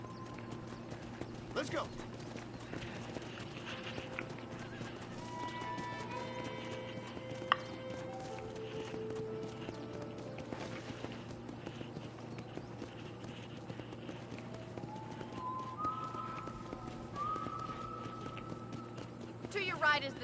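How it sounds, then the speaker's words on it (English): Horse hooves clip-clop at a steady riding pace in the Western game Red Dead Redemption, with a brief whinny, ambient background music and a character speaking over the ride. "let's see if you can still ride a horse"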